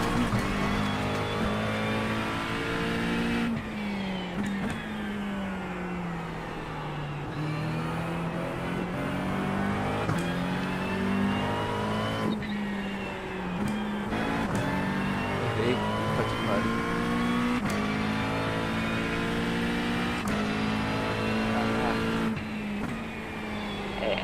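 McLaren race car engine in a racing video game at Spa, a sustained droning whine that shifts pitch through gear changes, continuous and fairly loud, with other cars close by and occasional talk over it.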